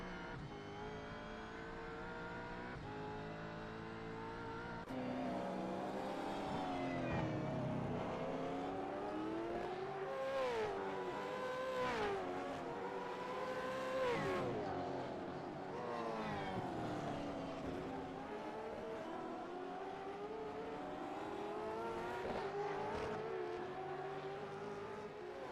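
Onboard engine sound of a Gen3 V8 Supercar in a sim racing game, loud, continuous and close, rising and falling as the car accelerates and brakes through corners over a full lap.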